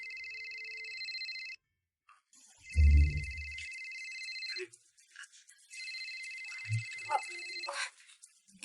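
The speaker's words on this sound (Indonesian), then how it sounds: "Kayaknya ada yang telepon." A mobile phone ringtone plays as a steady electronic tone with repeating trills, cuts out briefly, then resumes. A low thump and a few small knocks interrupt it, and there is no talking.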